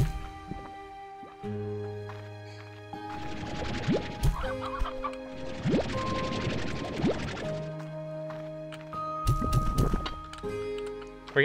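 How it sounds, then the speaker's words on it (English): Chickens cluck in the video game Slime Rancher 2, several short bursts over a looping game soundtrack, fairly quiet and without talk. "I saw like 20 chickens back here."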